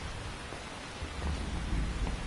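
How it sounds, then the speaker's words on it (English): Steady heavy rain pours down in Metal Gear Solid 3 while a low thunder rumble swells partway through, a dense constant hiss heard alone without speech. "You can entertain me until the rain stops."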